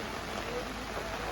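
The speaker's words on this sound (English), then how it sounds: "I thought it would be kind of drizzling, but it is so heavy rain now." Heavy rain pours steadily at Kanheri Caves, a dense, even hiss with no breaks, loud and close all around.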